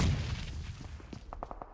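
A grenade detonating in PUBG Mobile: a heavy low boom that fades out, followed by a quick series of sharp, evenly spaced gunshots, with no voices.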